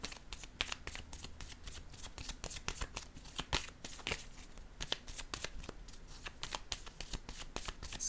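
Tarot cards being shuffled and handled at close range, a steady stream of crisp papery flicks and slaps that continues with no one speaking.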